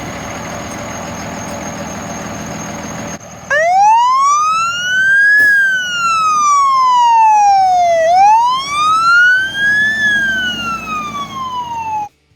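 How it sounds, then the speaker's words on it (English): A loud fire truck siren wails nearby, its pitch sweeping slowly up and down in long rising and falling cycles, preceded by a steady engine rumble. "let us hear the noises your fire truck makes"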